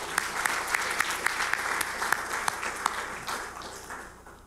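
Forum audience at an international conference on One Korea applauds its distinguished speakers, full hall clapping with a few sharp individual claps on top, fading toward the end.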